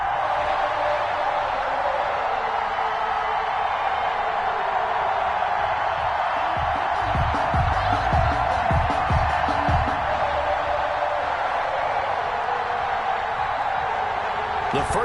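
A packed NFL stadium crowd roars and cheers before a Carolina Panthers game, a broad wash of noise running throughout underneath a commentator's voice.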